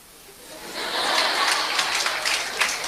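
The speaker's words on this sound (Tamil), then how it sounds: "பாதிக்கப்பட்டவர்கள் கைத்தட்டுகிறீர்கள்" Audience applause at a Tamil talk swells in after a quiet start and holds steady, a moderately loud wash of clapping with occasional sharper claps.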